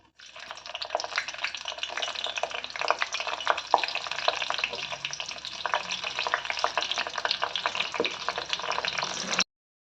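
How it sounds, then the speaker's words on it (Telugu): Eggplant pieces fry in hot oil in a pan, giving a steady, close sizzle with scattered crackles and stirring scrapes for nearly ten seconds before cutting off abruptly. "ఆయిల్ వేడెక్కింది, వంకాయలు మగ్గనివ్వాలి."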